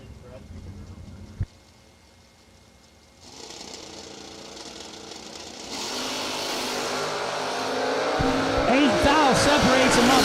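Drag race cars, a Camaro among them, launch down the strip with a sharp burst, then engine roar builds loud and steady into a broadband high-revving blast over the final seconds.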